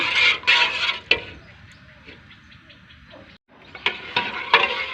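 Close scraping and clinking of stirring curry in a pot with soft sizzling underneath, a few sharp knocks of the utensil against the pot's side; lemongrass, kaffir lime leaves and pounded rice in a lotus stem and fish curry.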